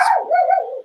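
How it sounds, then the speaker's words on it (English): A single short dog bark, loud and close, sounding alone in a quiet room. "That's my dog saying that's exciting."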